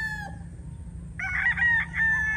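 A Python gray gamefowl rooster, an old bloodline kept on a game farm, crows loudly and close by, its drawn-out call rising after a brief lull over a steady low background hum.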